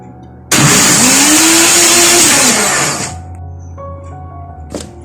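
An electric mixer grinder starts abruptly and whirs loudly for about two and a half seconds as it blends wheat flour batter with yeast, its pitch rising slightly, then cuts off and winds down, leaving a faint hum and a brief clatter.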